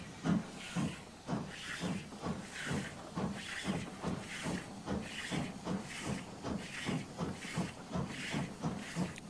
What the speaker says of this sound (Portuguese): Essas velhas locomotivas queimam madeira para gerar vapor.